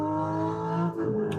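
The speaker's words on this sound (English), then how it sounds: "And this car is the Porsche 911 992 GT3 RS." Porsche 911 992 GT3 RS engine in a racing game on the Nordschleife, a steady high-revving tone with clear harmonics that dips briefly near the end before picking back up.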